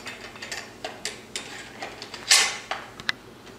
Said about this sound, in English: put your gas piston on, lock the bolt back, slide the barrel on